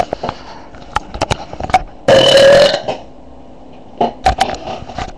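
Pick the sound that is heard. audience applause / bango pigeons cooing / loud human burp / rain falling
loud human burp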